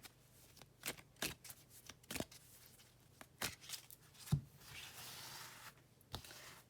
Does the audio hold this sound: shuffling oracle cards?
yes